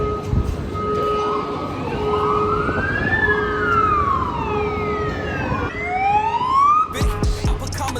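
A fire brigade or ambulance siren wails past a residential apartment building, its tone rising and falling in long sweeps over road rumble, then a faster, higher yelp before it cuts off abruptly.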